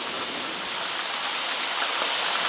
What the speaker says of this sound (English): it's just raining that hard.